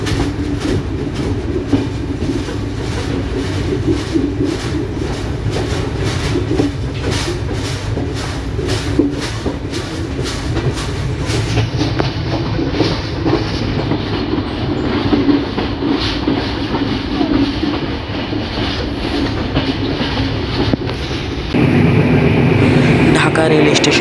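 Non-stop Bonolota Express passenger train running, a loud, steady rumble and rhythmic wheel clatter heard from on board throughout, with the tone shifting heavier near the end.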